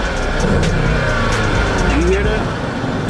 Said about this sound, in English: 5 liter naturally aspirated 385 horsepower V8